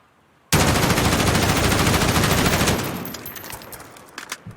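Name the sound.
gunfire from video game Modern Warfare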